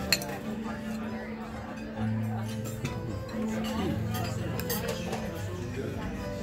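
A white chocolate dessert shell cracked open at a steakhouse table, giving light clinks and crackles, with a couple of louder thuds under a busy room of voices and constant background music.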